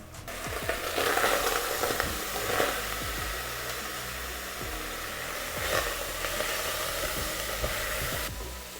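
Green banana pieces and meat sizzling and frying in a pot, a loud continuous hiss close up with occasional stirring knocks and bumps.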